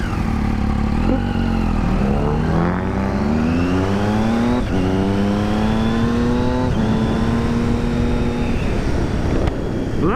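A Triumph motorcycle engine revs and shifts through gears while riding, pitch climbing and dropping in repeated surges, loud and close with steady wind noise.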